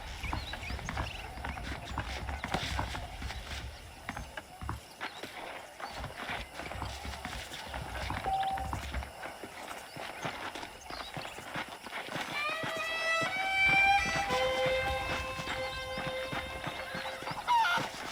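Horse hooves clop along with a whinny over background music and ambient noise in the video game Red Dead Redemption, with a voice talking partway through.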